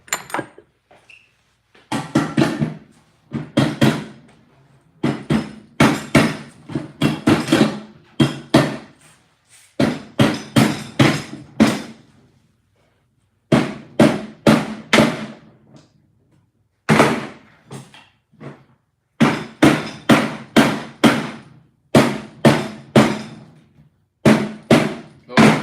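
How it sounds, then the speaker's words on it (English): Repeated hammer blows strike a metal front-end part on a Honda Integra during late-night work, coming in quick bursts of several sharp knocks separated by short pauses. "See if I can massage it with a hammer."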